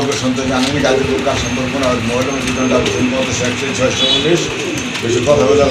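Pigeons for sale at a market coo in a steady, layered murmur of throaty calls, close and continuous, with people talking over them throughout.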